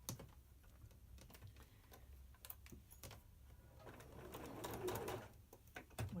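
A sewing machine stitches pieced quarter-curve circle quilt blocks, its fast mechanical chatter running steadily for several seconds and building slightly louder near the end, close and alone.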